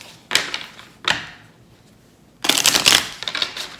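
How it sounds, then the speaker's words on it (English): Tarot cards riffled and shuffled up close: two quick bursts, a brief pause, then a longer, louder run of rapid flutter. "I'm going to do a good hard shuffle on these."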